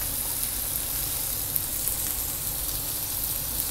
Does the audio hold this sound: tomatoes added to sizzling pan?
yes